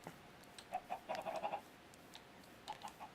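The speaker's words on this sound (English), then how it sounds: "The chicken coop." Blocky Minecraft chickens cluck in a chicken coop in the video game, with a quick run of close, bright clucks in the first half and a few more scattered clucks near the end.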